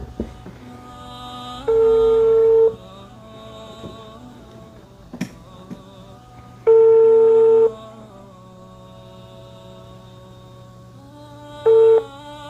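A telephone call rings out with three evenly spaced ringback tones, each about a second long and separated by pauses filled with faint line hiss and small clicks.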